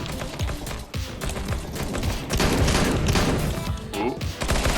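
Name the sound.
flashbang grenade going off in a video game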